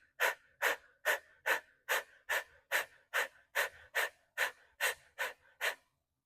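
Rhythmic breathing exercise of about fourteen sharp, forceful exhalations at a steady quick pace, each a short puff separated by quiet passive inhales, close and alone with no talking.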